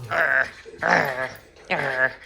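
A puppy lets out three drawn-out, whiny barks close by, each lasting about half a second, with short pauses between them.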